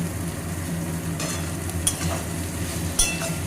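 Onions frying in a pan for a fenugreek chicken dish, a brief, even close sizzle with a couple of sharp spatula taps.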